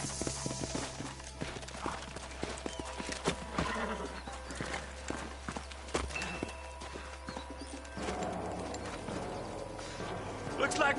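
Horse hooves clip-clop amid gunfire-like clatter and a whinny in the Red Dead video game, with voices talking over the scene and birds faintly in the background.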